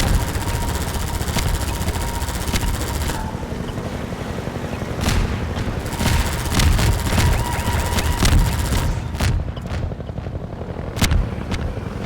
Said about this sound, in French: L'hélico est de retour.